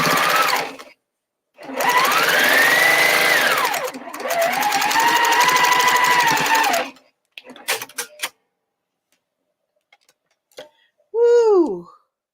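A sewing machine stitches a Jelly Roll Race quilt in two long, steady runs of rapid rhythmic clatter, then stops; brief voices and a short exclamation follow near the end.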